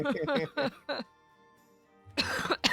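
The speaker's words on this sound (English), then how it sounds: "I have to be careful when I laugh because it makes me cough" After a few spoken words and a pause over a faint steady hum, one close, harsh cough bursts out amid further talk.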